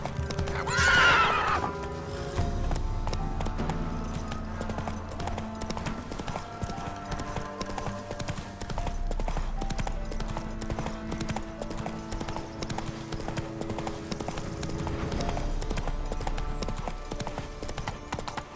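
A horse in The Witcher 3: Wild Hunt on PS5 gallops with continuous rhythmic hoofbeats, letting out a loud, shrill neigh near the start before the drumming hooves carry on over quiet game ambience.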